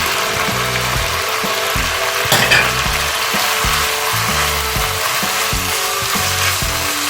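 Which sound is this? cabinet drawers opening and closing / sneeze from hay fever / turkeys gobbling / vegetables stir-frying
vegetables stir-frying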